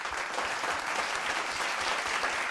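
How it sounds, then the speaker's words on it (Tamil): An audience at a children's school speaking competition gives steady, dense applause throughout, many hands clapping continuously at moderate loudness with no break. "விண் உலகத்தில் இருக்கக்கூடிய தெரசா அம்மாவுக்கு கேட்குற மாதிரி ஒரு கைத்தட்டு கொடுக்கும்"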